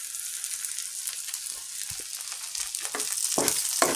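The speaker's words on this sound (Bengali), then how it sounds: "চিংড়ি মাছ ভাজতেছি" Prawns frying in a pan at night, a steady broadband sizzle with crackling pops and spits that grow a little louder toward the end, no one talking.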